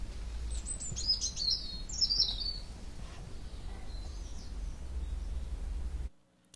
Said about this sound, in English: Late afternoon light, and we hear the sounds of birds.